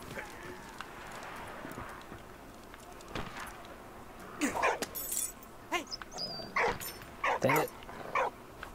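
A dog barks in short repeated bursts in the Valiant Hearts video game, with clopping sounds and game effects around it, and a player briefly speaks over the game audio.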